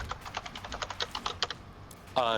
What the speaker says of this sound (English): What is the typing sound? Presumably someone is typing.